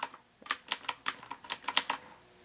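Keys clacking on a Rii K61C mechanical keyboard: about a dozen sharp, close taps in an uneven burst, some clustered in quick pairs, after a brief opening tap and a short pause.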